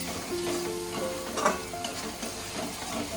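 Chopped tomato and whole onions sizzle in a pan with paneer masala spice paste as the mix is stirred, a steady soft frying hiss with a few stirring scrapes.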